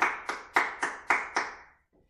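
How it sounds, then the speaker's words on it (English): About six crisp, evenly spaced claps ring out close by in a steady rhythm, then stop abruptly, leaving near silence in a children's language session. "Give yourselves a clap."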